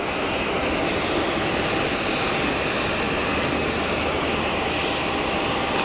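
A KLM jet airliner at Geneva Airport gives off a steady, loud engine roar that holds without pause, with no talking.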